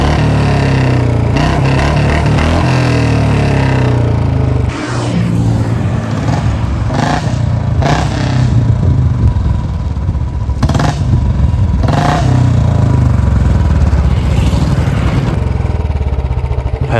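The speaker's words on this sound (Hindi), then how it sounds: "अब देखो क्लच दबा कैसा साउंड आता है आपको दिखाते हैं।" Modified BS6 Royal Enfield Bullet 350 with a short Punjab-style exhaust revs loudly and close by, its deep thumping engine rising in repeated throttle blips over a steady idle, with no talk.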